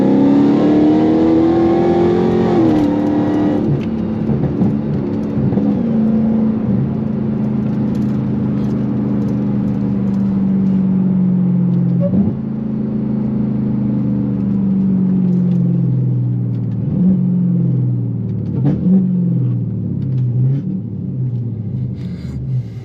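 Deep rumbling engine of an 800+ horsepower Dodge Charger Hellcat rising in pitch as it accelerates on a highway at night, heard from inside, with gear shifts dropping the drone before it climbs again.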